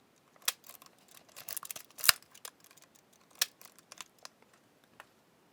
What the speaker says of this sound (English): This is the shutter.